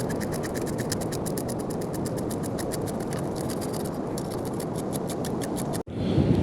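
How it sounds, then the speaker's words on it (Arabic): Freshly caught fish being scraped and cleaned by the sea gives a fast, regular rasping rhythm of close strokes that runs continuously, then cuts off abruptly before a rougher, noisier stretch at the end. "اخوان دابا غنبداو نقيو هاد الحوت هذا"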